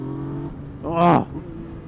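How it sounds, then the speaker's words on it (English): A 2017 Yamaha MT-09 motorcycle gives a short, loud induction bark as the throttle opens, a rising harmonic surge lasting about half a second over a low idle-like engine hum. "you get that induction bark"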